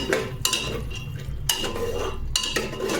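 Pasta tipped into a metal cooking pot, a loud clattering rattle with sharp clinks and scrapes of metal on metal, several bursts over a continuous kitchen rumble.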